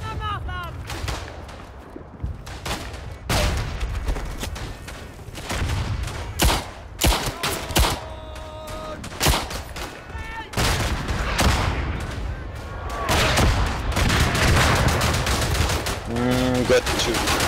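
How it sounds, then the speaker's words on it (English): Artillery fire and battlefield gunfire in the WWI shooter Verdun on the Champagne map: repeated heavy booms and sharp shot bursts, some near and some distant, dense throughout, with brief voices in places. "Okay, sending the artillery"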